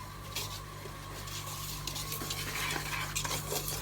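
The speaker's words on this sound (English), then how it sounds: "You mix, mix, mix." Baking ingredients mixed by hand in a bowl, a close, continuous scraping and swishing of a spoon with light clinks against the sides.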